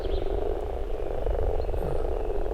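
A chorus of common frogs croaks steadily at a spawning pond, a dense continuous purring drone with no gaps, close and loud, with no voices.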